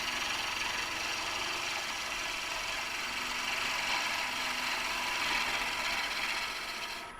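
A skew chisel takes an anchor-bevel cut on an olive wood pen blank spinning on a lathe, giving a steady, continuous hiss and rasp of shaving wood that holds level throughout and fades slightly at the end.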